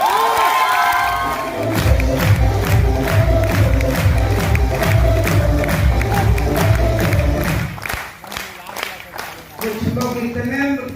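A large audience at a mega seminar in Patna claps and cheers loudly, with rapid rhythmic clapping and excited shouts over music and an amplified voice; the noise drops briefly near the end, then swells again.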